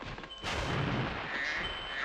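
A booming explosion in Spyro Year of the Dragon: a sudden loud burst after a short quieter stretch, then a sustained roaring rumble that slowly fades, with no voices over it.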